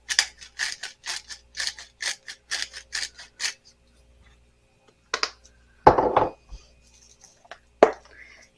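Italian herb grinder cranked over a bowl for sloppy joes, giving a run of about a dozen quick, even, rattling clicks, followed by a few scattered knocks and a louder rustle as dry seasoning goes in.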